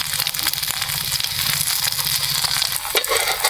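An egg fries in a pan with salt and chili powder, a dense, continuous crackling sizzle that stays loud and steady throughout.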